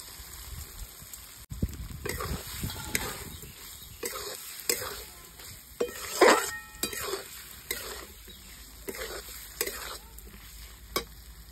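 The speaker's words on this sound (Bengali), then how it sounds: "মশলা আমার কষানো হয়ে গেছে, এবার আলুগুলো দিয়ে দিচ্ছি" Potatoes fry and get stirred through a cooked spice mix for a green-chili mushroom dish, with a steady sizzle broken by repeated scraping strokes of a spoon against the pan, close and clear, no talking.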